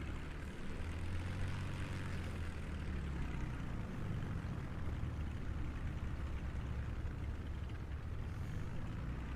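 Steady propeller aircraft engine drone from a Microsoft Flight Simulator short-takeoff competition, a continuous, fairly quiet hum with a broad rushing tone and no voices.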